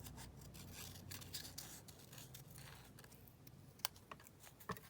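Scissors trimming a paper edge for an art journal page, a quiet close series of crisp snips and rustles, with a few sharper clicks near the end.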